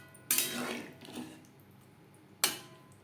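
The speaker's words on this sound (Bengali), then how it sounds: "জলের সাথে পেঁপে বেশ ভালো করে মিক্সড করে দেব।" A utensil mixes papaya pieces with water in a cooking pot, producing two clattering metallic knocks with a short rattling scrape between them, close and moderately loud.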